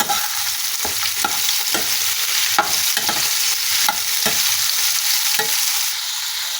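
Ridge gourd frying in a pan with hot oil and asafoetida, a continuous close sizzle broken by repeated scraping strokes of a spoon stirring at an uneven rhythm, with no one speaking.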